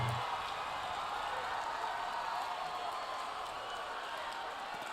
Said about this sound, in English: And then people started cheering.